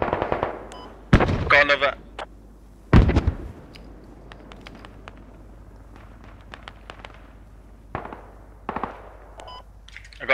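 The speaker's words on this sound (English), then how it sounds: "I'm suppressing them with machine gun from my position." An MG3 machine gun in Squad fires short bursts, two loud close strings of rapid shots and scattered single cracks, while other distant gunfire pops in between and a voice speaks briefly.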